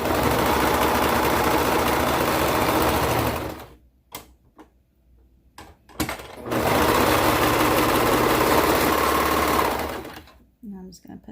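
A serger sewing machine runs in two loud rapid bursts as it stitches the shoulder seams of a bodice and its lining, with a short pause of faint handling noises between and a brief quiet at the end.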